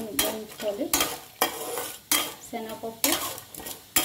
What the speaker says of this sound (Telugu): కుమిన్ సీడ్స్, అలాగే కొంచెం ఒక అర స్పూన్ మస్టర్డ్ సీడ్స్ అన్నీ వేసి పోపు వేయించుకోవాలి